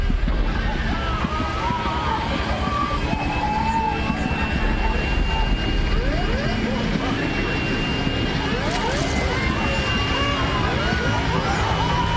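A Boeing 737-200 comes down in an emergency landing, a constant loud roar of engine and rushing air inside the cabin, dense and unbroken, with faint voices and murmurs underneath.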